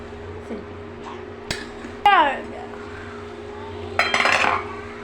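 A spoon stirs a pot of bottle gourd and dried fish curry, giving a few sharp metallic clanks and scrapes against the pot, with a longer rattling burst near the end over a low steady background hum.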